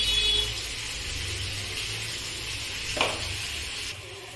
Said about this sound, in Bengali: এবার আমি কেটে রাখা সবজিগুলোকে সব দিয়ে দেবো।